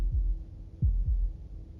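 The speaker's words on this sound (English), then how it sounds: "That was the sound of a heartbeat" Heartbeat in the video game Slay the Princess: low, soft thuds, a single beat and then a close double beat, over a faint steady hum with no voices.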